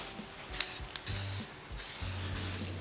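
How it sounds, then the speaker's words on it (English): Short hissing bursts of aerosol rust converter sprayed over rust on a 1972 Chevrolet Nova come in several quick puffs, mixed with faint clicking and low mechanical humming close by. "you can spray right over the rust and it works just fine"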